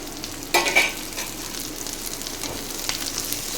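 Chopped cowpea pods sauté in oil, a steady close crackling sizzle with a sharp spatula clatter near the start and softer stirring scrapes afterward.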